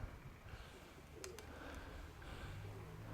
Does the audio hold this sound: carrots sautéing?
no